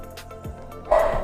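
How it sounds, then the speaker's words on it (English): A single dog gives a short bark or two in the background of a quiet indoor call, brief and fairly close, with no talk during the sound. "that's my dog."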